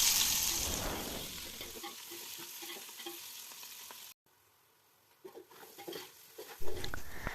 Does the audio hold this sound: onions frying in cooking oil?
yes